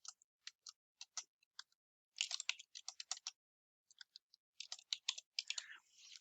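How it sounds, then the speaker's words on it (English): Someone types on a computer keyboard in Microsoft Word, pressing the Tab key between entries, giving crisp, close key clicks in quick bursts separated by short pauses. "Okay, so I press tab, tab, tab, and type the name."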